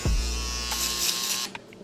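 Electric hair clippers buzz steadily up close during a mid taper haircut, a continuous hum that cuts off near the end, with no talking.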